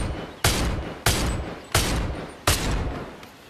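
Desert Eagle pistol fired in the VR game BONELAB: four loud, sharp gunshots spaced roughly two-thirds of a second apart, each with a short decaying tail.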